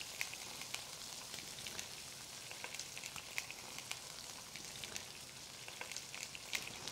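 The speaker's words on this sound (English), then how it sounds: "A nice sizzle like that." Salmon sizzles steadily skin side down in a hot pan, a dense crackling hiss with small pops, close and even, no voices.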